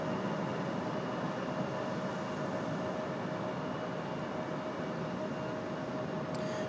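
CRJ regional jet engine noise at Raleigh Durham International Airport, a steady broadband roar with a faint constant tone, continuous and fairly distant throughout with no talking.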